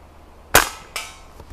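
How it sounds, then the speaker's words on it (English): A lever action Umarex Cowboy Legend BB air rifle fires one sharp, close crack, followed by a softer second report and faint ticks, with quiet between them. "the Umarex air gun"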